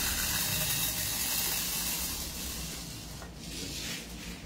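Three hundred plastic BB rounds pour into an M4A1 carbine airsoft magazine, making a steady dense rattling rush that fades slightly toward the end.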